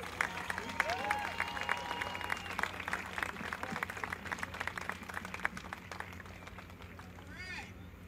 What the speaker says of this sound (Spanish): recibamos con un fuerte aplauso, otra vez otro aplauso, a Ari Hoening.